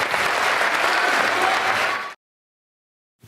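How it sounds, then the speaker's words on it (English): An audience applauds cast members of an all-girl band, a steady, dense round of many hands clapping for about two seconds before cutting off abruptly into silence. "A round of applause."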